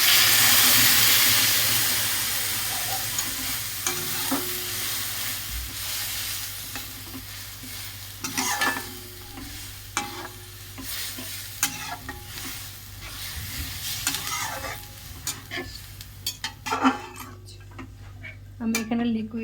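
Liquid milk poured into a pan of fried nuts sizzles and steams while a spoon stirs and scrapes against the pan in irregular clinks, and a voice speaks now and then.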